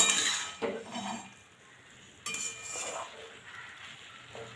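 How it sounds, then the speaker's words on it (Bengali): Eggplant and shrimp being stirred together in a pan for a spinach-stalk and shrimp curry, with a few faint scrapes and clinks of a utensil against metal and quiet background hiss. "এবার চিংড়িটা দিয়ে দেব, দিয়ে খুব ভালো করে মিশিয়ে দেব"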